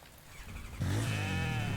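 A goat in The Infected survival game gives a loud, wavering bleat that starts suddenly partway through and holds to the end, after a quieter stretch of game ambience.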